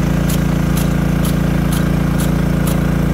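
A water pump runs steadily nearby, driving a Nelson P85AS 1 1/4-inch impact sprinkler with a half-inch drive nozzle and quarter-inch spreader, with a constant engine-like drone and faint regular ticks from the sprinkler arm about twice a second.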